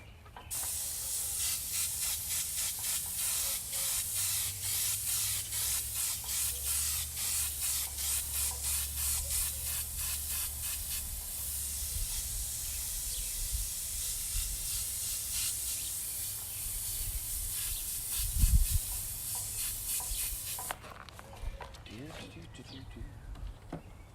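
Airbrush spraying paint onto a tiki head outdoors in a yard, a steady hiss running almost continuously for about twenty seconds with faint pulsing, a voice talking over it, then stopping abruptly near the end.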